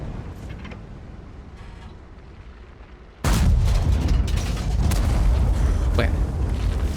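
A tank cannon fires a blind shot in World of Tanks with a sudden loud boom partway through, followed by sustained rumbling battle noise.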